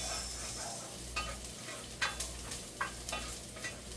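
Garlic sizzles and browns in a pan while sinigang aromatics are sautéed, a steady fry hiss broken by a few scraping stirs, close and alone without talk.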